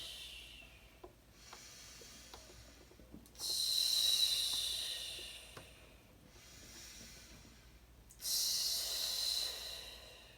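Slow, deep breaths drawn in and out through the nose during a breathing exercise, two long hissing inhales and exhales close to the mic, steady and unhurried with no talking.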